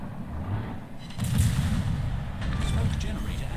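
Warship main guns firing in World of Warships, the destroyer Cossack opening up on a Furtaka: booming blasts rising after about a second into a steady rumble of repeated shots, with game noise under it.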